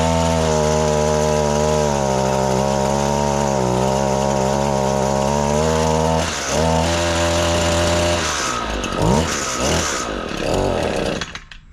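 An Echo PAS-225 weed eater's small two-stroke engine runs loud and close at a steady idle, then revs and sputters unevenly as it is choked and adjusted.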